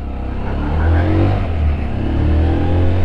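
A SINNIS Terrain 125 motorcycle engine running close up, a loud steady mid-pitched drone that rises slightly as it revs, with no talk over it.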